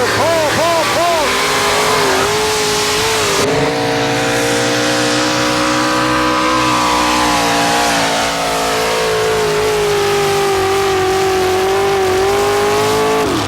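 A pulling truck with a fresh paint job roars at full throttle during a 1987 tractor pull, its engine revving hard and sustained with a rising pitch, loud and close, with crowd and announcer noise behind.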